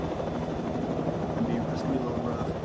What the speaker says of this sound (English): Just the chopper then.